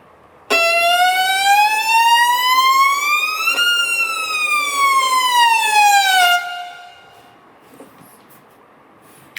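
Loud, dissonant orchestral music played fortissimo, rising and falling like a wailing siren for about six seconds before cutting off into quiet.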